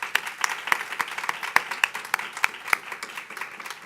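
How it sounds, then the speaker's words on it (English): Scattered applause from a small audience at a school board of education meeting, sparse sharp claps with no voices over them. "they need to be applauded"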